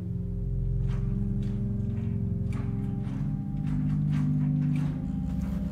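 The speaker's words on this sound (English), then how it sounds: "And there's a 16-foot flute as well. Sounds like this." Hinsz pipe organ of the Bovenkerk in Kampen sounding its 16-foot flute stop, a deep, steady sustained tone with chords held continuously and gently shifting, filling the church with no voices.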